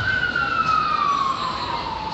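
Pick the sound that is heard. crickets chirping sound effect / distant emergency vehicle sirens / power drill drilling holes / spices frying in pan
distant emergency vehicle sirens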